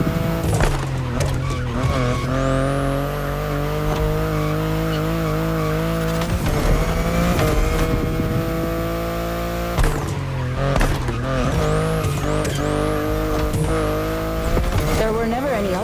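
A BMW i8 sports car drives hard, its engine tone rising and falling steadily while tires squeal and chirp in repeated bursts, loud and close throughout.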